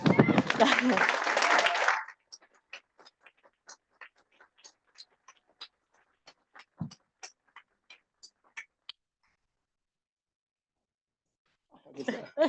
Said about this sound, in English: One more significant round of applause.